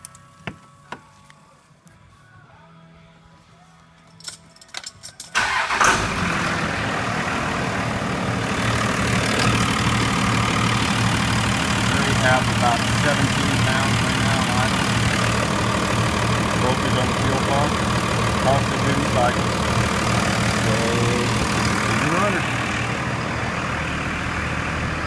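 A Dodge Cummins 24-valve 5.9L diesel in a workshop during lift pump diagnosis, with a few quiet clicks at first, then the engine catching abruptly and settling into a loud, steady idle clatter that continues to the end.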